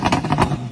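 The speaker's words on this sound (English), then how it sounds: "Listen to a Lamborghini Huracan at full throttle" A Lamborghini Huracan V10 at full throttle gives a sharp, pulsing engine roar that stays loud and close throughout the short burst.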